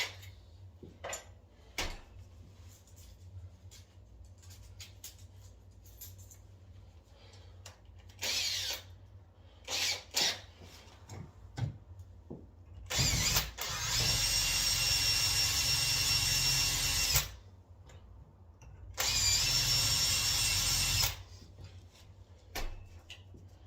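A power drill drives pilot holes while a door is being hung, with two long bursts of whirring. Short clicks, taps and handling noises come before and between them in a quiet indoor space.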